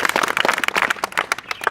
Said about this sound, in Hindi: तो एक और ताली।